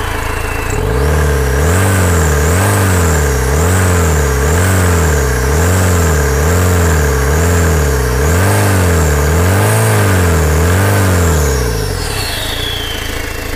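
A Tata Vista diesel car engine, checked for black and white exhaust smoke, is revved repeatedly in a steady rising-and-falling rhythm, loud and close, for about a dozen seconds before settling.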